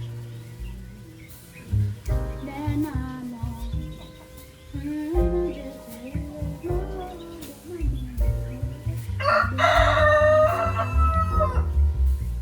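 Chickens in a coop in Nairobi, Kenya, with a rooster crowing loudly and repeatedly in long drawn-out calls, surrounded by clucking hens and other fowl chatter, close by and busy throughout.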